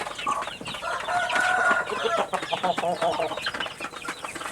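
Several chickens cluck continuously and close by as they are fed rice, a busy overlapping chorus with an occasional louder call.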